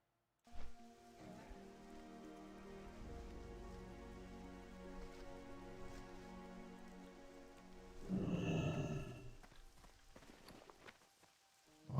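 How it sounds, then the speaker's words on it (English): Soft steady rainfall in the game World of Warcraft Classic, pattering under footsteps, with a louder burst of activity near the end. "And it's raining here."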